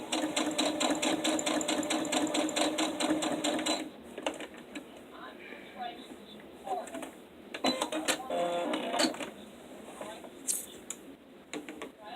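A sewing machine runs a basting stitch, a quick steady mechanical whir for about four seconds, then stops and gives way to quieter handling clicks and short bursts of stitching.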